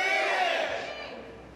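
Spectators in the stands at a professional billiards team league match shout out together in a short, loud burst that quickly fades.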